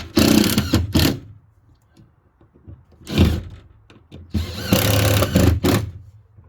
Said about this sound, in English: when the screws pierce through the other side, I know they'll be held in place